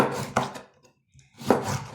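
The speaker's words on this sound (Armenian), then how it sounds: "Լիմոնն էլ այս ես կտրտում եմ։" A few crisp knife strokes cut through a lemon on a board, two bursts separated by a short quiet pause.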